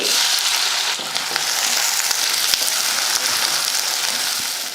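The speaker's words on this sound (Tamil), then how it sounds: "வெங்காயம் வந்து நல்லா வதங்கிடுச்சு" Shallots and garlic fry in hot coconut oil with curry leaves, mustard seeds and fenugreek for a fish curry, giving a loud, dense, continuous sizzle with occasional sharp pops close by.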